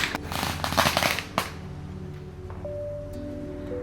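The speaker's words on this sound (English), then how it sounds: "listening to the women go down and light the fireworks" A dense rattle of firecrackers pops rapidly for over a second, then stops, leaving a steady hum and faint tones.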